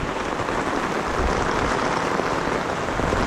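Water hosed onto a Dune 4WD King Titan Deluxe Double canvas swag, a loud, continuous hiss and patter like heavy rain on fabric, close and steady.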